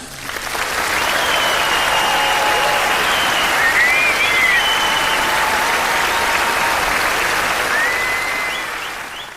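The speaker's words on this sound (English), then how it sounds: "A huge round of applause for our fantastic band." An audience at an evening entertainment show applauds a band, a dense and loud burst of clapping that swells in, holds steady for several seconds and then tapers off at the end.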